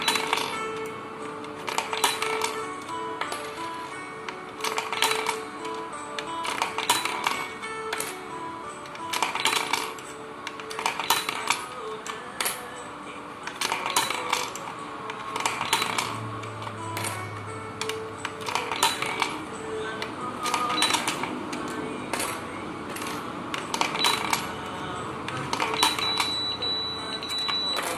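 Silver and gold 2-baht coins are fed alternately one after another into an SG648 coin acceptor, each clinking and rattling down inside at a steady, repeating pace, close up.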